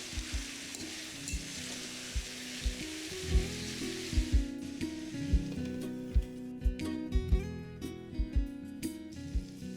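Potatoes for Bengali aloo chorchori sizzle steadily in a pan, a dense frying hiss broken by repeated scraping stirs and knocks of a spoon against the pan, close and continuous without talk.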